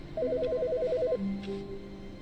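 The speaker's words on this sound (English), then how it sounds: "Wait, there's a phone ringing." A trilling electronic phone ring in The Stanley Parable: Ultra Deluxe warbles rapidly for about a second, then gives way to a steady low tone; loud and close, no voices.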